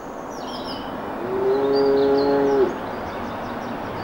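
A single long cow moo, close and clear, over soft outdoor ambience with a few birds chirping in the background.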